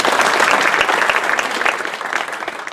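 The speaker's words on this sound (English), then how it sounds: "Round of applause here for DJ." An audience at an investment panel event gives a loud, close round of applause, dense clapping that stays steady and then eases slightly toward the end.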